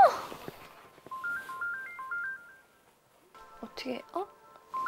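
Mobile phone ringtone playing a tinkling melodic tune, starting after a brief exclamation, pausing, then resuming alongside surprised talk.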